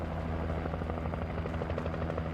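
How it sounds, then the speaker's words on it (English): Steady rhythmic chopping of a helicopter in Alan Wake Remastered, faint and distant, holding a constant thrum throughout. "Chopper!"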